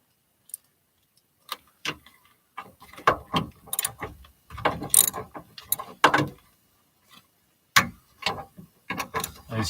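A ratchet wrench with an extension turns bolts on a car, giving bursts of rapid clicking in short irregular strokes with quiet pauses between, close and crisp.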